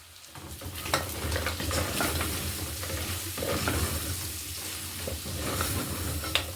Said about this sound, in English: We add it now because the onions are already brown. Let's add it inside there and stir.